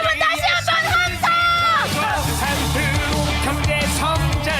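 A crowd at an outdoor election campaign rally in Sejong roars with shouts and cheers, a loud, sustained swell mixed with amplified voices and music from the stage.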